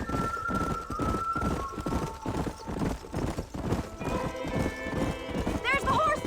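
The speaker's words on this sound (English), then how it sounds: "There's the horses!" Horse hooves clip-clop rhythmically in the Red Dead Redemption video game, a steady loud gait running throughout with a brief whinny near the end.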